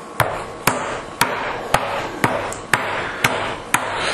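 A meat mallet pounds raw chicken breasts flat in a kitchen, eight sharp, evenly spaced thwacks landing about every half second, loud and close.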